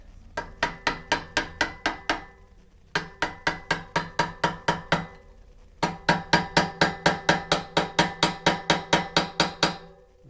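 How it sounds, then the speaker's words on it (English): A screwdriver taps a bottom bracket into place on a Mongoose Beast bike with sharp, ringing metallic knocks, close and clear, in three rapid runs of about seven, eight and seventeen evenly spaced strikes separated by short pauses. "I'm just going to take a screwdriver and kind of tap it into place like this."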